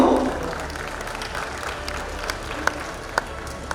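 An audience at a certificate ceremony applauds, a continuous moderate clapping from a room of people with a few sharper individual claps standing out, fairly close and steady, with a voice briefly at the start.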